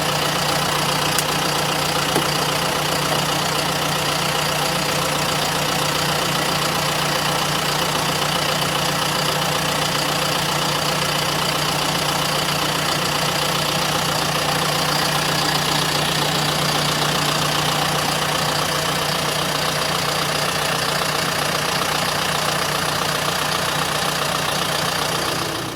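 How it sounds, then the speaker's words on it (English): A brand-new John Deere 5100E tractor engine idles steadily, a loud, constant diesel drone with a strong low hum and slight knocking texture, running alone without voices for the full length. "This don't seem to be a bad little tractor."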